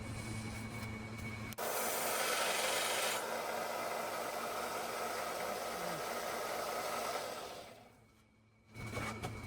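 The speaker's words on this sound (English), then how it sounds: "we're fixing to sand that flat and get it a little bit shorter" A cheap knife blade being sanded flat, a steady abrasive grinding rasp with a machine hum beneath, continuous and close, fading briefly before resuming.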